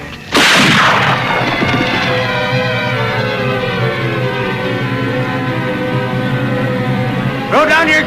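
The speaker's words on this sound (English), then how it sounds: "Stop or I'll shoot!" In a radio drama, a loud gunshot cracks close by and rings out in a long, echoing decay, and a second shot bursts in near the end.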